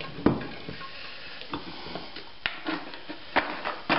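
Apple juice is poured into a cider brew, giving irregular splashes and clinks against the vessel with soft liquid noise between them, fairly close and with no talk.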